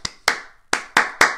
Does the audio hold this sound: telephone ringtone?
no